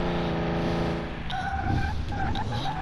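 A Mercedes-Benz Pagoda with a straight-six engine spins around in a loud, sustained skid, with the engine droning steadily and the tires squealing through the turn.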